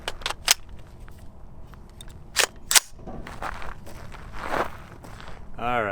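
A Palmetto State Armory ARV 9mm carbine fitted with an Obsidian 45 suppressor fires several sharp, muffled shots in uneven succession, close and loud, with handling clicks and a metallic rattle between them.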